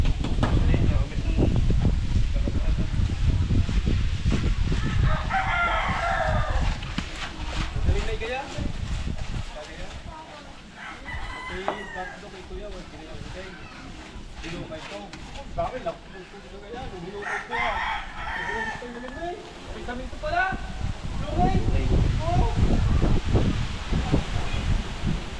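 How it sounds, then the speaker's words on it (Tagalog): Strong outdoor wind buffets and roars in low gusts around a yard where new floor tiles are being cleaned, with roosters crowing and chickens clucking close by and faint voices now and then. "Grabe yung hangin, lakas."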